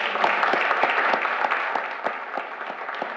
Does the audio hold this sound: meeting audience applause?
yes